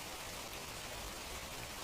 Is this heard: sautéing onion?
no